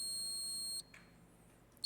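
A quiz-show buzzer gives one steady electronic beep lasting just under a second, then cuts off into near silence before a faint second tone starts at the very end; no voices.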